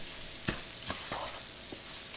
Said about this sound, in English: So I'm just gonna stir this around.